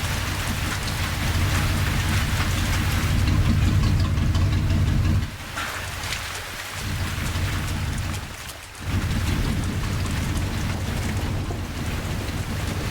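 Steady heavy rain pours in the Out of Hell video game, a dense constant hiss that dips briefly twice, loud and with no voices.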